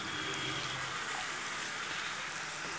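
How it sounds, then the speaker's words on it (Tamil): Water poured into a pan of masala chicken with ground coconut paste, a steady even gush that fills the whole stretch at close range with no talking. "அதுக்கு தேவையான அளவு தண்ணி சேர்த்துக்கலாம்"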